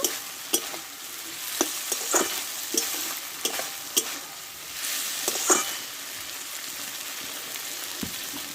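A curry of fish head and taro stems is stirred in a pan, giving a steady close sizzle and crackle with scattered sharp scrapes and taps of the spoon against the metal, with no one talking.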